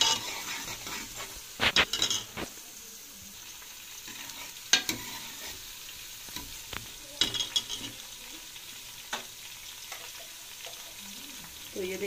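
Green onions are stirred through a cooking pot, with a soft frying hiss underneath and scattered bursts of metal spoon scraping and clinking against the pot, close by and without talk.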